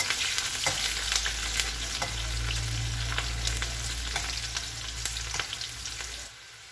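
Chopped onions frying steadily in hot oil until golden brown, a dense continuous sizzle with occasional stirring scrapes and clicks, close and loud, then easing slightly at the end.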